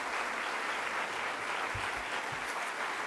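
Sustained crowd applause at a university talk following a speaker's introduction, a dense, even wash of clapping heard at a moderate distance, unbroken for the full length and free of speech.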